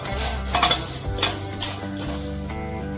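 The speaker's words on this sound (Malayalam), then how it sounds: "ഉലുവ കടുക് കുറച്ചു നേരം നല്ല ഒന്ന് ചൂടാക്കണം അത് ബ്രൗൺ കളർ വേണം" Fenugreek and mustard seeds heat in a hot pan, giving a soft sizzle with light crackles and a few scraping stirs of a utensil, close and steady with no talk, for Karnataka-style mango pickle.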